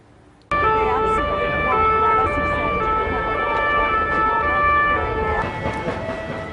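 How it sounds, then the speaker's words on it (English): An ambulance siren in Paris wails loudly and continuously, its pitch stepping up and down, with traffic rumble underneath. "You hear those ambulance sirens"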